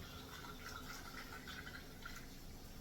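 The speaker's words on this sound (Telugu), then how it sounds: "ఇలా ఫిల్టర్ నీళ్ళు పడతాను ఇది ఫిల్టర్ నీళ్ళు అండి" Filtered water pours steadily into a cooking pan while making wheat rava semiya upma, a continuous close trickling and splashing with no talk.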